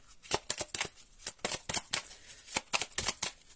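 Tarot cards being shuffled by hand, a close, quick series of crisp riffling flicks and snaps in uneven bursts, with no talk over them.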